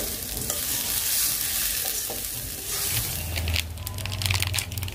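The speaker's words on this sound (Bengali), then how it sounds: "তো এই যে চালটা কিন্তু প্রায় ভাজা হয়ে গেছে।" Rice fried and stirred in a kadai, with a steady sizzle, scraping stir strokes and crackling grains, close and moderately loud, with no talking.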